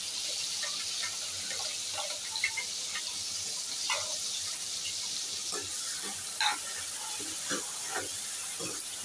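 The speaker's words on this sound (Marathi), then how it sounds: "आता ह्यामध्ये मी बारीक चिरलेला कांदा टाकून घेते।" Finely chopped onion frying in oil with cumin and asafoetida for rajma, a steady hiss of sizzling broken by scattered small crackles and pops.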